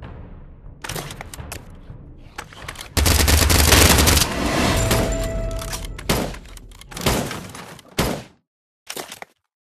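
Rifle fire in the Pavlov VR zombie-shooting game comes in scattered shots, then a loud sustained volley, followed by several separate blasts and a final short burst.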